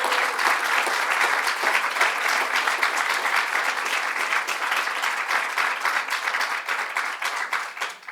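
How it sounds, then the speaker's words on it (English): An audience at a governor's bill-signing event on women's equality breaks into sustained, dense applause lasting several seconds, loud and even throughout, with a few faint voices mixed in before it tapers slightly at the end. "let's give Jennifer Rabb and CUNY a round of applause"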